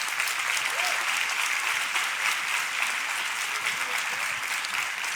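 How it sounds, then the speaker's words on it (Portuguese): A church congregation applauds, a dense, even wash of clapping sustained throughout at steady loudness. "Pode dar uma salva de palmas."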